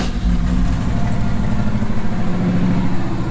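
A 1962 Chevy truck engine idling, a loud, steady, close-up rumble with an even, lumpy pulse and no talk over it.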